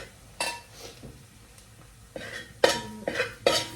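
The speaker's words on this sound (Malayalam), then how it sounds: "മസാല പച്ചമണമൊക്കെ ഒന്ന് മാറുന്ന വരെ ജസ്റ്റ് ഒന്ന് ഇളക്കാം" Masala sautéed in a pan and stirred with a spoon, giving a series of scraping strokes and light clinks against the metal, sparse at first and then denser and louder toward the end, close by.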